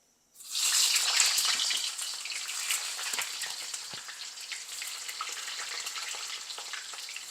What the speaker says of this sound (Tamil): இப்போ இதில் இன்னும் கொஞ்சம் கத்திரிக்காவை ஃப்ரை பண்ணி எடுக்க போகிறேன்.